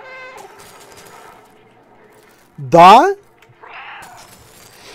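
Cat meow in the video game Stray, one loud, close, drawn-out call rising and falling, preceded by game music and a brief spoken word, with a short burst of electronic noise after.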